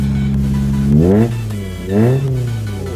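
A 1995 Toyota Starlet engine idling smoothly, then revved twice in quick succession, the pitch rising and falling with each blip, loud and close with no talk.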